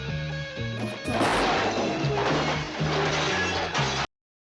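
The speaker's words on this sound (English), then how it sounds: "Is he really just about to jump through this glass?" A man crashing through a glass window in the 1986 film Manhunter, a loud burst of smashing and shattering glass over a tense music score, followed by scattered crashing debris before the sound cuts off abruptly.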